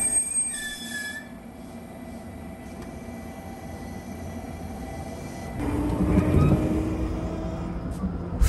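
JR Kyushu Sonic 79 limited express bound for Oita, heard from a station platform: a steady low rumble and faint high squeal of wheels, swelling louder in the last few seconds as the train moves close by.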